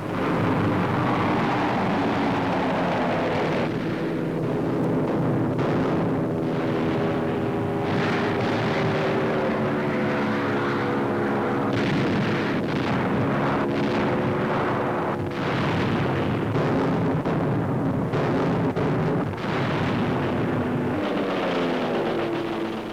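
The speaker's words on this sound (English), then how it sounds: "Now comes a low-level bombing attack with the enemy airfield hit again and again" Repeated heavy explosions from a 1943 low-level bombing attack on an enemy airfield in Italy boom and roar continuously, layered with rumbling blasts and crackling bursts, loud throughout with no voices.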